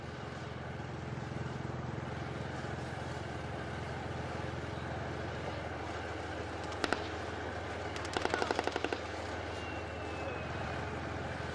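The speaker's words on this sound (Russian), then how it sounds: "Сейчас хорошо видно, как строкочет пулемет по красной мишени" A tank machine gun fires at a red target during a tank biathlon, brief rapid bursts of sharp clattering shots, one short burst then a longer rattling string, heard over a steady engine rumble and a commentator's ongoing talk.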